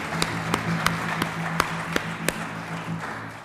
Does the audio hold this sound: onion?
no